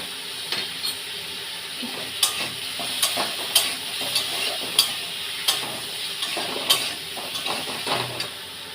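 Tilapia fish curry with tomato, salt and turmeric is stirred in a frying pan, giving a continuous soft sizzle with repeated sharp spoon scrapes and clinks against the pan at an uneven rhythm.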